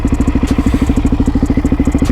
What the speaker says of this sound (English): Oh, here is the new to me DRZ400 SuperMoto.